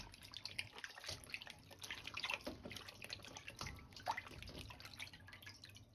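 Bitter melon, cucumber and chili peppers are swished by hand in a bowl of salt water, giving soft, close splashing and dripping sounds at low level.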